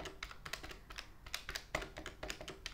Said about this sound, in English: a little ASMR typing for you.